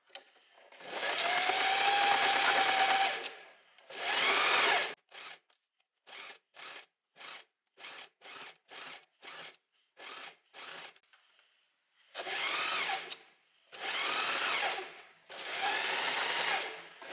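A sewing machine stitches shut the elastic gap on a gathered dress with long sleeves, starting with long whirring runs and then a quick series of short bursts before more long runs, close and clear.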